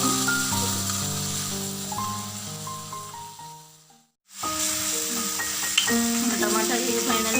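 Onions frying in a pan with tomato for a masala egg fry give a broad, steady sizzling hiss that sits under prominent background music, with a brief dropout midway.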